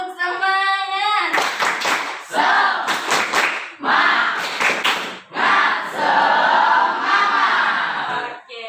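A school class performs a rhythmic Indonesian spirit clap (tepuk semangat), with loud bursts of many hands clapping in patterned groups mixed with children's voices calling out along with the beat.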